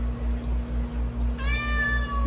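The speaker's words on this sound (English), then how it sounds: "And the cat's acknowledging that." A cat gives a single clear meow partway through, beside a fish tank with two Aqua-Clear 70 filters running; a steady low hum and pulsing filter rumble continue underneath.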